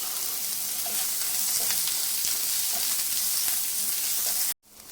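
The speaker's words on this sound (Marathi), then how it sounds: "त्याच्यामध्ये एक मोठ्या साईजचा कांदा उभा चिरून घेतला तो आपल्याला लालसर होईपर्यंत परतून घ्यायचा आहे" A large onion, sliced lengthwise, frying in hot oil in a pan gives a loud, steady, dense sizzle with faint stirring scrapes, then cuts off abruptly near the end.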